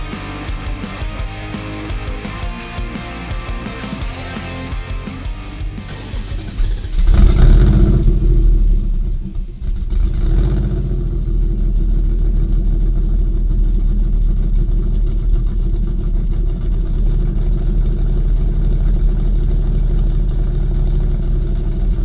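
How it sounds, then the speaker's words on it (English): A Dodge Challenger T/A prototype engine runs loud and steady, with a burst of revving partway through before it settles into a sustained idle rumble with no talking. "So the car runs fantastic."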